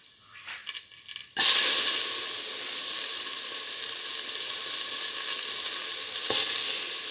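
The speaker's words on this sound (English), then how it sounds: "Now put in the tomato pieces." Tomato pieces fry in a pan, set off by a loud burst of sizzle as they go in and then a steady, close hiss and crackle that holds without a break, with a brief stir or clatter near the end.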